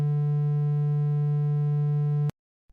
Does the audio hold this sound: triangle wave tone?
yes